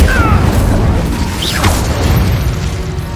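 A fiery Incendio spell in Hogwarts Legacy bursts with a loud, dense whooshing boom that fills the whole moment, with a brief rising magical shimmer in the middle.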